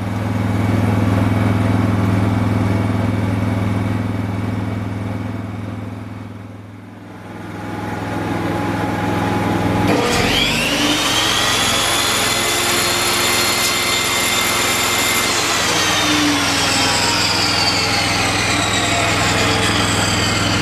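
A Honda EG2800i inverter generator hums steadily nearby, dips briefly under load, then a table saw plugged into it spins up with a loud rising whine and runs on over the engine drone.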